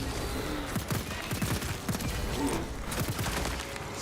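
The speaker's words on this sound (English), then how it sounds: "Deploying shrapnel grenade" A shrapnel grenade goes off in a sci-fi space shooter video game, producing a dense, fairly faint rattle of rapid crackling bursts that runs steadily for several seconds.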